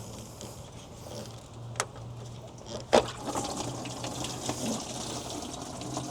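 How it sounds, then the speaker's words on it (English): Coolant pouring from a loosened Nissan Skyline radiator hose into a container, a continuous soft splashing trickle close by with a couple of sharper clanks, and no talking. "Now let's try moving that hose from the top and letting all the coolant fall down into"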